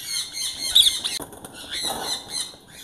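A female violet recessive pied ringneck parakeet gives a few sharp, shrill squawks and squeals close by, in short bursts over a quiet background.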